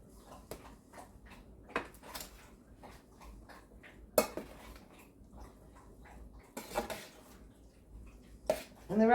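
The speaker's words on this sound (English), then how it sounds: "Alright, and then I just stir it up." A spoon stirs homemade dog food with rice in a pot, giving close, scattered metallic scrapes and clinks with quiet gaps between them.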